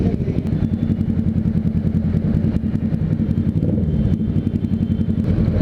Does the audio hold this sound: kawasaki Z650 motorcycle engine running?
yes